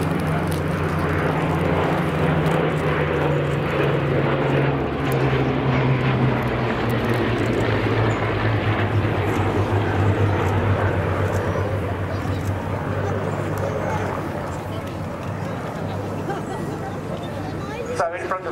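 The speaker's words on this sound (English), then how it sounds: "the Bristol Blenheim leads a pair of Hawker Hurricanes" A Bristol Blenheim leads a pair of Hawker Hurricanes past the crowd at the 2018 Duxford airshow. Their loud, continuous piston-engine drone slowly shifts in pitch while a commentator talks over the public address.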